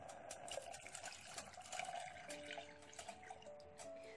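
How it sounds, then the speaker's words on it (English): Milk poured into a pot of boiling masala chai gives a steady liquid trickle with faint dripping, close and moderately quiet, with no talking. "So this is a good time to add the milk."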